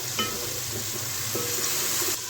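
Chopped onions and tomatoes with salt are stirred in a hot pan for Rajasthani-style aloo methi. A steady close sizzle runs throughout, broken by a few soft stirring scrapes, with no talking.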